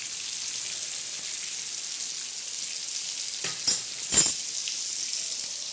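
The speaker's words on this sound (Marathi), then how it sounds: "तर आता बघा हे असे मस्त मच्छी आपली भाजत आहे" Semolina-coated fish frying in a pan, a steady close sizzle throughout with a few louder spitting crackles and pops near the end.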